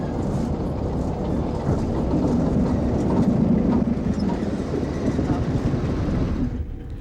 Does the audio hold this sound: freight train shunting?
yes